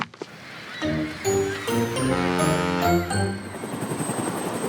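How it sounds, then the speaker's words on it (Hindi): A bright cartoon-style jingle of rising chimes and tones swells in, then gives way to a steady whirring flutter like an approaching cartoon helicopter. "हेलीकॉप्टर आ गया, हेलीकॉप्टर आ गया,"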